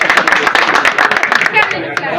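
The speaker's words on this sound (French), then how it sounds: "Vous pouvez l'applaudir" A room full of people claps at a farewell party, a loud, close run of sharp, uneven hand claps with voices talking over them throughout.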